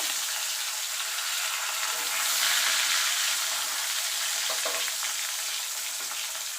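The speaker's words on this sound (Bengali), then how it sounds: "এবার আমি মাছগুলো ভেজে নেব।" Katla fish pieces frying in hot oil in a wok, a steady bright sizzle and crackle holding level throughout, swelling slightly midway, with no voices.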